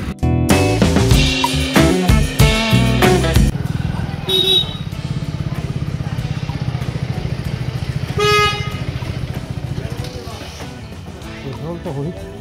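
Motorcycle engine running on a village road, a steady close putter with a rough burst of revving at the start, a short horn toot partway through, and the engine tapering off at the end.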